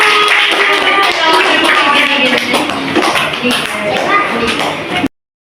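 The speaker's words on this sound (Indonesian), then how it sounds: "Iya, beri tepuk tangan." Primary school class clapping after a group presentation on body movement, a loud burst of many hands close by, mixed with some chatter, ending abruptly.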